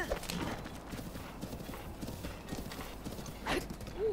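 Horse hooves gallop in a steady clip-clop rhythm while riding across a bridge in Zelda: Breath of the Wild, with a brief whinny near the end and a voice talking faintly underneath.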